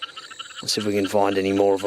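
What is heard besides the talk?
frogs calling at a Brisbane creek, broad-palmed rocket frogs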